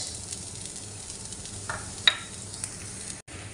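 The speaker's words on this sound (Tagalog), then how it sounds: "Medyo mainit na po, so ilagay na po natin yung sibuyas." Chopped onion cooking in hot oil in a pan reused from frying egg, a soft, steady low sizzle with a couple of faint clicks near the middle and a brief dropout near the end.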